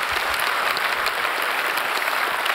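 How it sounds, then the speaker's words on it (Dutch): Applause for panel speakers at a D66 party congress, a steady, even patter of many hands clapping in a hall, sustained and unbroken for a few seconds. "Graag een applaus voor onze sprekers."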